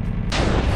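A pig cannon in the video game Minecraft fires a single loud booming blast that cuts in abruptly and rolls on without a pause, with no talk over it.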